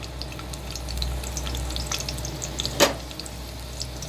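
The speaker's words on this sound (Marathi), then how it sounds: "लसूण जराशी परतून घ्या" Garlic sautéing in a hot pan for a Maharashtrian fish thali, a steady soft sizzle with light stirring and one sharper crackle burst near the end, no talking.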